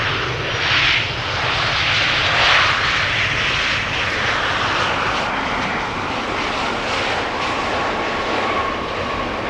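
A Boeing 737-900 airliner lands at Amsterdam Schiphol, a loud sustained engine roar that fills the whole stretch with a broad rushing wash and a slight swell early on, heard alone with no voices.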